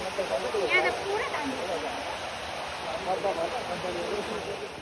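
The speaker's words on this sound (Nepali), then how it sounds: "खोला पनि बढेको रहेछ अहिले।" A swollen river rushes past, its broad steady roar continuing under a person talking nearby.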